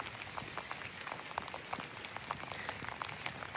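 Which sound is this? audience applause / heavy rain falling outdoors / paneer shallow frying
heavy rain falling outdoors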